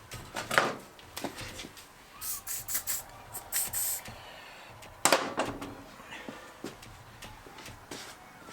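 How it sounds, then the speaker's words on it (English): Aerosol cleaner sprayed into a Kawasaki KZ650C brake part in a workshop, a few separate hissing bursts of varying length with small clicks and handling knocks between them, close and moderately loud. "I'll give it a wash out with the squirt, whatever it is."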